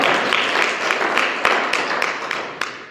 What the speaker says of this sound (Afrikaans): Gee die Here 'n lekker hande klap.